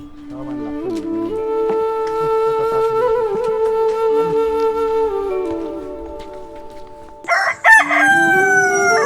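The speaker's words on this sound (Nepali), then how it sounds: "जहाँ भालेको ढाकोसँगै दिन सुरु हुन्छ।" A rooster crows at daybreak in a Nepali village, one long loud close call with a rising and falling pitch, followed by brief clucking and a sharper squawk at the end.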